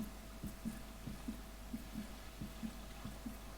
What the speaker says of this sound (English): What's that heartbeat?